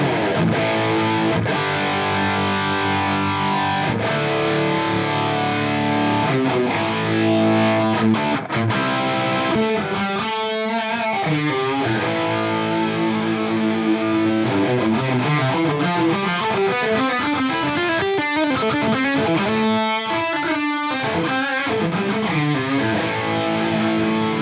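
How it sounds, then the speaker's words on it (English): Distorted electric guitar run through a KMA Machines Endgame AI doubler pedal, playing a continuous riff with a thick, doubled chorus-like texture, loud and steady throughout with no talking. "created an algorithm that changes both the pitch, the timing, and the level of signal to create a really authentic human feeling double part."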